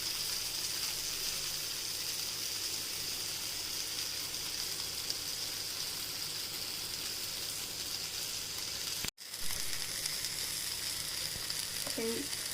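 Mushroom tikka sizzles in an oiled pan with a steady, even hiss throughout and a sharp click near the end, with no talking.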